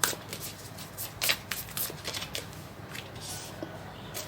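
Tarot cards are shuffled by hand in a quiet room, a series of soft riffling bursts and light papery flicks arriving in irregular bunches, close and fairly faint.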